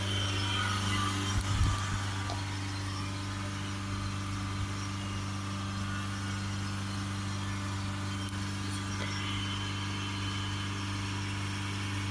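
The 2.3 diesel engine of a Mitsubishi Outlander idles with a steady low hum and a mild vibrating drone. The sound stays constant and close throughout, with no talking.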